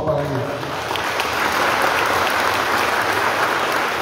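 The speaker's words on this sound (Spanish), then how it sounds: "Un aplauso, por favor, para ellos." A crowd at a political campaign event for a municipal presidency in San Juan Colorado, Oaxaca, breaks into sustained applause that swells and then holds steady, clapping dense and close, with a voice briefly audible at the start.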